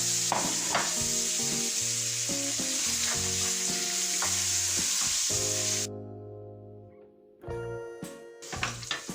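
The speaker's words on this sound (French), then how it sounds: "À ce moment-là, vous pouvez y déposer aussi votre ail." Rice and garlic fry in oil in a pan for a saffron paella-style dish, making a loud steady sizzle with stirring scrapes that cut out briefly and then return.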